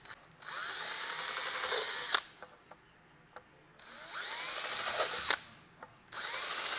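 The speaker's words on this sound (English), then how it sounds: "So go ahead and drill all these out." A power drill bores through a plastic 4Runner grille in two long whining bursts, each about two seconds, separated by quiet pauses with small clicks and taps, heard close with no talking.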